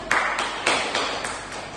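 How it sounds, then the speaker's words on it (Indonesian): A few scattered handclaps from a classroom group during a micro-teaching lesson, sharp separate claps spaced roughly a quarter second apart at close range, thin rather than a full burst of applause. "Silakan kasih tepuk tangan dulu buat Rita."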